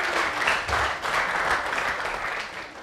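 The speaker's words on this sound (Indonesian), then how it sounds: "Oke, tepuk tangan buat Yoga." A studio audience at an Indonesian TV dating show claps for a contestant, a brief burst of steady, moderately loud applause with no talk over it.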